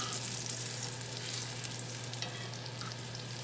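Steady, close sizzling and crackling of chicken frying in a hot pan with a little oil, continuous with no talking.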